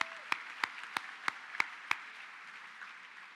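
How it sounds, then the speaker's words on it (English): Scattered, fairly faint claps ring out at a steady rhythm from an audience at a high school honors convocation, honoring Board of Education members, then fade out. "Let's give them a round of applause for supporting."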